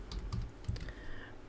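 Quick, light keystrokes on a computer keyboard while drawing in AutoCAD, a handful of soft close clicks in an irregular rhythm, with no talking.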